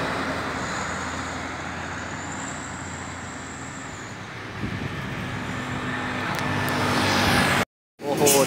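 Road traffic rumbles steadily, a heavy car-carrier truck loaded with Toyota Avanza cars swelling louder as it passes close by, with a brief cutout near the end.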